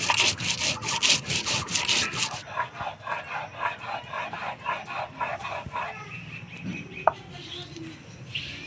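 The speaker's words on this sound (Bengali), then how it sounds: "শুকনো লঙ্কা ধইনা গোটা জিরা একসাথে বেটে নিব।" Dry red chillies, coriander seeds and whole cumin being ground together on a stone in a village kitchen, giving a steady rhythmic rasping and scraping of stone on stone, loud and close at first, then softer with background ambience.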